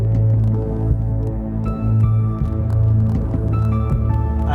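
An industrial beat played on an Ableton Move with reverb added, thick droning low tones and throbbing pulses with clanky metallic hits and sustained washed-out tails, loud and continuous with no voices.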